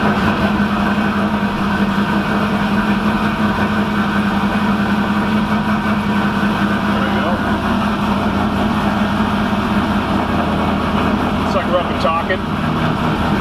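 A Pontiac WS6 engine runs with a steady low drone as a ride begins, its even rumble continuing underneath talking throughout.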